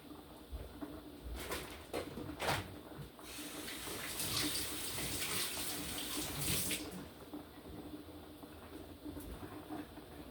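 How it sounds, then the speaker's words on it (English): Tap water runs in a kitchen sink as hands are washed beneath it, a steady close rush with splashy surges and brief bursts where the hands break the stream. "So let me wash my hands"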